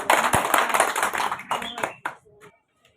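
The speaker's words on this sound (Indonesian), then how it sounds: "Tepuk tangan untuk kita semua dulu." Audience clapping at a community session, a burst of hand claps with voices mixed in for about two seconds, then thinning to a few scattered claps before fading out.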